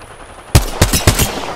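Gunfire in the Apex Legends video game: after a short quiet lead-in, four or five loud, close shots ring out in a quick irregular burst, each with a punchy low thump.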